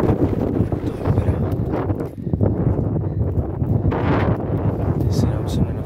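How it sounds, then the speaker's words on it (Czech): Strong gusty wind buffets the microphone in a constant rough roar, with brief lulls, while someone talks over it. "Dost silně tady fičí, teda."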